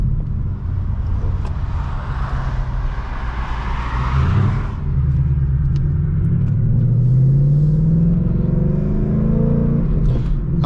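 A car engine rumbles steadily while driving, with a low drone that rises in pitch as it accelerates midway through.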